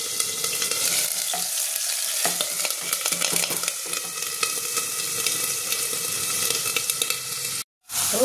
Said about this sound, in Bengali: এবারে তেলের মধ্যে আমি এই পেঁয়াজ বাটাটা দেব।